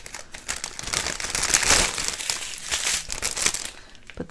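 Plastic packaging crinkling and crumpling as it is opened and put away, a dense, close rustle lasting several seconds and swelling in the middle.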